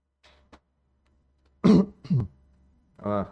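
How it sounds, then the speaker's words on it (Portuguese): A man clears his throat several times, with short harsh bursts close to the microphone between brief quiet gaps and a final voiced rasp. "Perdão pela minha pigarra aqui"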